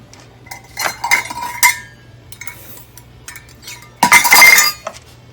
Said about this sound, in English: continuously stirring so it doesn't stick